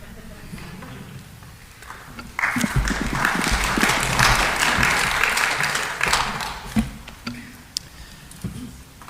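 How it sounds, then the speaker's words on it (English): A city council meeting audience breaks into applause that swells suddenly, holds for several seconds of dense clapping, then thins out into a few scattered claps, with faint murmuring in the room before and after. "I don't remember you getting claps before"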